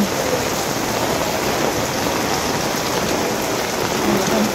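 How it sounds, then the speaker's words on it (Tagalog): Very heavy rain pours down steadily onto surfaces near a market, a dense, continuous roar of drops with no gaps and no voices. "Napakalakas ng ulan."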